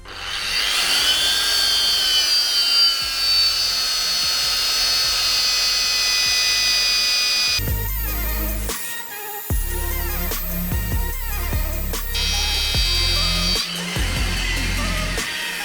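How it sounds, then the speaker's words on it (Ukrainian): A Bosch GWS 24-230 JZ angle grinder with a wire brush whines at high speed, then drops into a rough, loaded grinding with repeated dips and surges as pressure is applied. "поставив сюди щітку і попробую задивити цю болгарку"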